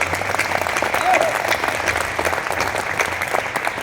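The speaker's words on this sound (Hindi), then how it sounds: "जोरदार तालियां दोनों हाथ उठा के।" Steady applause from a crowd at a late-night Hindi poetry gathering on a cold night, dense clapping that fills the whole stretch at an even, fairly loud level.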